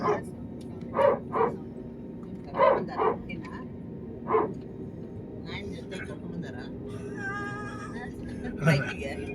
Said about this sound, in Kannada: ನಾಯಿ ಬಗ್ಲತ್ತಲ್ಲ.